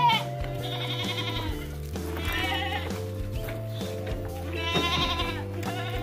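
Female goats on a goat farm in Malang bleat repeatedly in loud, wavering cries close by, one call overlapping the next above a low steady hum.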